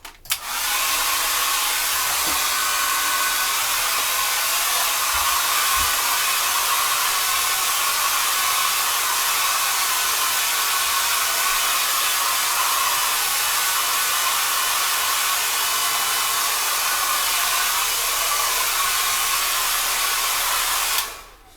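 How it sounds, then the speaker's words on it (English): A hairdryer drying a watercolour painting blows loudly and steadily, a constant airy rush that runs unbroken for about twenty seconds before cutting off. "Going to give it a quick blast with a hairdryer"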